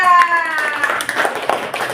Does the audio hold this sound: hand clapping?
yes